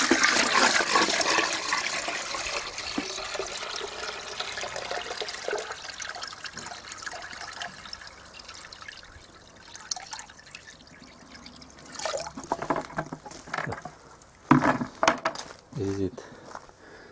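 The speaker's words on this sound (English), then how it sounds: "I'll pour the water in the bucket." Water splashes and trickles steadily into a bucket fitted with a water level indicator, then settles into drips and gurgles, with a voice talking over it.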